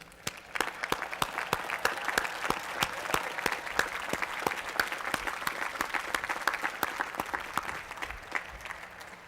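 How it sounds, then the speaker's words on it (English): Graduates at the 2004 MIT commencement applaud their parents: steady, dense clapping from a large crowd, with a few louder individual claps standing out, sustained evenly throughout. "I'd like all the graduates, if you don't mind, to give a round of applause to your parents."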